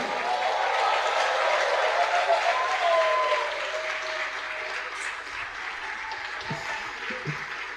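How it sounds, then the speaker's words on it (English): A graduation audience at a Rome Business School ceremony in Nigeria claps, loud sustained applause that eases slightly midway and continues at a lower level to the end. "If you think you can clap, clap."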